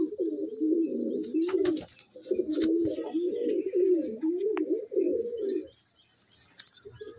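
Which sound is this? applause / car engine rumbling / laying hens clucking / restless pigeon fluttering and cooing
restless pigeon fluttering and cooing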